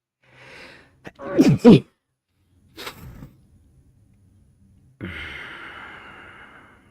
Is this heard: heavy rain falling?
no